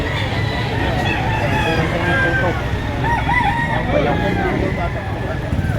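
A rooster crows loudly and close, its call rising over a busy background of clucking fowl, engine noise and people talking at a fowl market in Lipa, Batangas.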